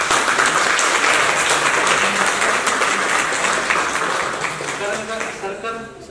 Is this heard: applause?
yes